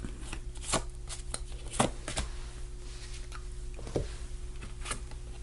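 Close, steady shuffling of a tarot deck, soft papery rustling with a few sharper card snaps at irregular intervals, with nobody talking.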